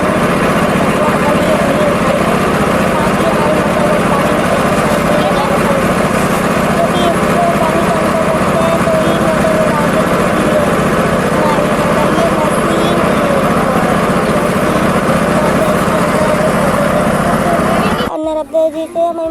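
Motor running beside the Narmada river: a steady, loud droning hum that holds unchanged for the whole stretch, then cuts off abruptly near the end.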